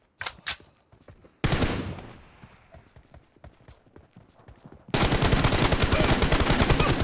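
Gunfire in a first-person shooter game, a few sharp single shots followed by a loud close crack that fades, then a sustained rapid burst of automatic fire, with no talk.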